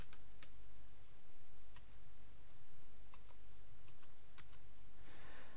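Security code typed on a computer keyboard during website registration, with a few scattered, quick key clicks in small bursts over a steady background hum, fairly quiet and close.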